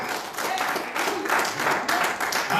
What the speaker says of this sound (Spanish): si ese aplauso se lo da al Señor